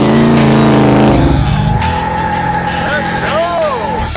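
High-horsepower car engine revving hard, a loud close roar that drops in pitch and settles into a rumbling drone, with brief tire-like squeals near the end.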